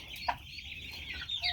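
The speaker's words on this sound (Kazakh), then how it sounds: "Қазір ар жаққа барып тауықтарды түсіреміз. Тауықтар осы." Farm hens cluck in a village yard on a summer pasture, a few short, soft calls at moderate distance over a quiet background.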